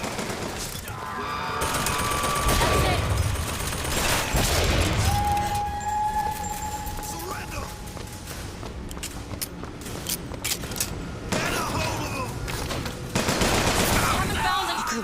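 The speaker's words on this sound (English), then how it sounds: "What are we shooting at?" Gunfire crackles in Bioshock Infinite as sustained, rapid bursts mixed with crashes and thuds rise and fall over about fifteen seconds of busy combat.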